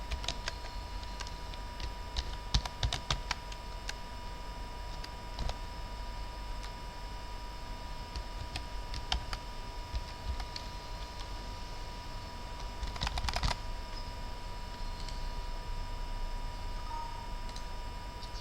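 Someone types on a computer keyboard, with faint, sparse clusters of clicks and taps spread across a quiet stretch and no talk.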